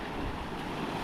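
Ocean waves surge onto a Hawaiian beach on Oahu during a kayak launch, a steady loud wash of surf mixed with wind rumbling on the microphone, with no voices.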